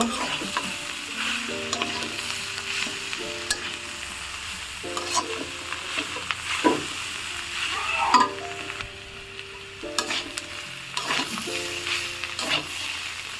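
Young jackfruit frying in a pan, a constant close sizzle with repeated scraping stirs and clinks of a utensil against the pan, alongside a faint steady background tone.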